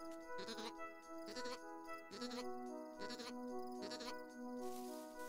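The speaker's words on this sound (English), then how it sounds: "It's a sheep." Sheep bleating in the video game Carto, a series of repeated wavering bleats at a steady rhythm, close and clear over soft game music.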